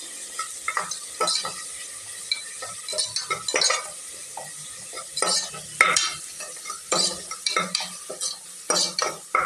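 A ground paste of ginger, garlic and green chilli sizzles in a pan for a vegetable biryani while a utensil stirs and scrapes it in irregular clicks and rattles, close and fairly quiet, with no voices.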